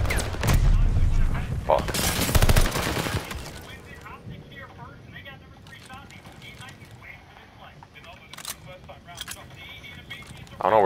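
Gunfire in the video game Call of Duty: Vanguard, a loud rapid burst of shots in the first few seconds, then quieter scattered shots and game sounds, with a player's voice cursing briefly.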